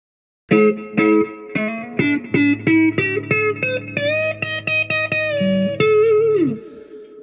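An electric guitar replicating a Cloud guitar, not yet set up, rings out alone in a quick run of picked notes and chords, some buzzing and uneven, ending with a sliding note.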